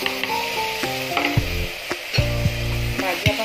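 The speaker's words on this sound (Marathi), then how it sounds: "फोडणीमध्ये आपण शिंपले टाकून घेऊया" River mussels tipped into hot spiced oil tempering with homemade masala paste, giving a loud close sizzle punctuated by sharp clanks and scraping of a utensil against the pan.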